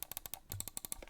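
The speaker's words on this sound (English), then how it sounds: "getting into a sound test, right and left click," Left and right buttons of a Zowie FK2-B gaming mouse with Huano switches clicking about a dozen times in quick, even succession, each a sharp, close, dry tick.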